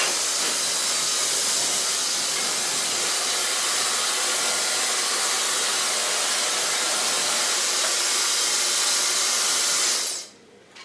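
A hair dryer blows hair dry at close range, a loud, steady airy roar lasting about ten seconds before it switches off and fades quickly.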